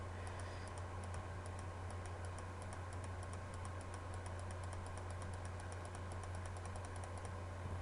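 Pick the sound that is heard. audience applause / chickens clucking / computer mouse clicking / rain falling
computer mouse clicking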